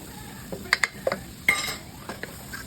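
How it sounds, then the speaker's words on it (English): Flour is stirred into melted butter in a pot, with a spoon clinking and scraping against the metal in several quick knocks over a faint, low sizzle. "Give it a good mix, and then we're going to let that flour cook off for a moment."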